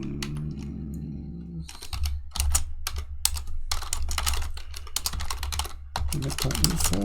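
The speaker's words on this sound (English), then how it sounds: "This keyboard is loud, I guess." Fast typing on a loud computer keyboard at a coding desk, a brief voice at the start then clattering keystrokes in quick irregular bursts with short pauses, close and prominent over a low background hum.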